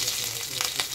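Slit green chillies drop into hot oil with mustard seeds, and a bright crackling sizzle fills the brief moment, dense and close with small popping bursts.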